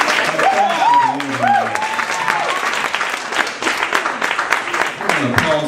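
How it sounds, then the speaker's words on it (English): An audience applauds at an LGBT allies reception, steady clapping rising under a speaking voice at the start and continuing alone, dense and close, for several seconds. "Please give her a round of applause."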